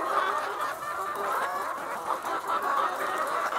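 Giriraja chickens clucking steadily in a hen egg farm, a dense chorus of overlapping calls carrying on continuously at moderate volume with no speech.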